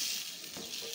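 Chickpeas fry in oil with a couple of pinches of salt, giving a steady, fairly quiet sizzle with faint stirring that runs unbroken throughout.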